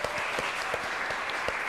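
Steady applause from a seminar audience, a dense wash of many hands clapping with a few sharper individual claps standing out, continuous and fairly close throughout.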